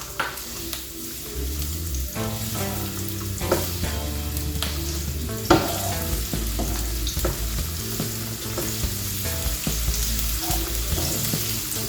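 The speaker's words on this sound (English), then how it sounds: "Now add the onion" Onion sizzles loudly in hot oil in a pan for a beef meat pie filling, with a steady crackling hiss broken by stirring scrapes, over background music and no talking.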